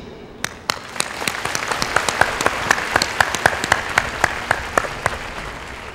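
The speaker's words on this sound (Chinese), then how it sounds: "让我们再一次以热烈的掌声来向我们所有的教授师长" Audience applause at a university graduation ceremony, a burst of many hands clapping that builds and holds steady, with individual sharp claps standing out, and no speech.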